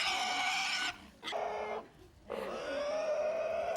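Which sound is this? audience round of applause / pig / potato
pig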